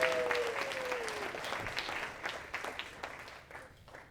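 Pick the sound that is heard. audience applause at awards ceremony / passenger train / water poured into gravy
audience applause at awards ceremony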